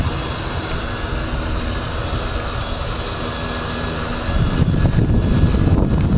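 Small Yuneec Typhoon H drone motors idling on the ground after landing, a steady whirring hum with outdoor rumble that swells louder toward the end.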